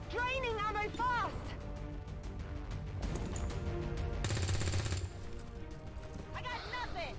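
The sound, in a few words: gunfire in a video game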